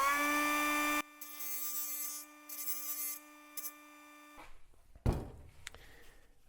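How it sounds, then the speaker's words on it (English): A small tool chamfering the cut edge of a Jaguar XJS V12 transmission cooler line: a faint high motor whine in short bursts with pauses, then scraping and a knock as the part is handled. "The other thing I like to do is we'll come along and do a little chamfer."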